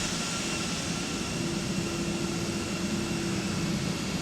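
Steady, loud jet engine roar from an A321 at taxi thrust in the ToLiss flight simulator, a constant broadband rumble with a faint tonal whine, continuous and unbroken with no talk.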